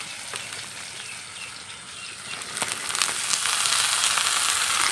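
Potatoes sizzle and crackle in hot oil in a pan for a crispy aloo fry, a steady close hiss with scattered pops that swells louder in the second half, with no talking.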